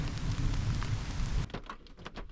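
Heavy rain pours steadily as a dense hiss for about a second and a half, then stops abruptly, leaving faint scattered drips and patters.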